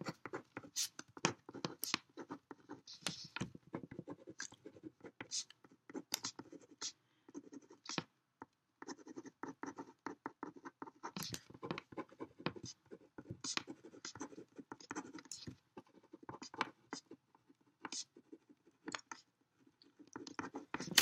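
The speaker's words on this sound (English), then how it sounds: "take a little sticky note, write it down" A pen writing on a small sticky note, giving close, quiet scratching strokes in short bursts separated by brief pauses, with no talking.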